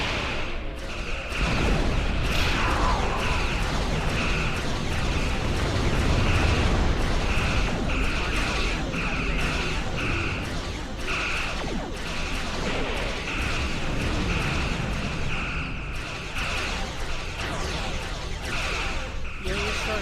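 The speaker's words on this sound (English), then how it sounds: "Fire torpedoes." Torpedoes firing and exploding in the space combat video game Star Trek Online, a sustained dense rumble of booms and bursts with mechanical weapon tones, loud and continuous throughout.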